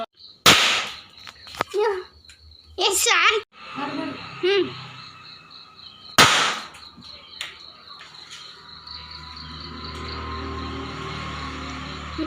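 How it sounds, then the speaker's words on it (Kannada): Several sharp firecracker bangs go off at a distance during a Tulsi festival celebration at home, with crackling and whistling bursts in between, followed by a steady background hum. "ನನ್ನ ಕಿವಿಯಂತೂ ಪೊತ್ತಿ ಹೋಗಬಹುದು ವೈವಸ್ ಈ ಪಟಾಕಿಯ ಶಬ್ದಕ್ಕೆ"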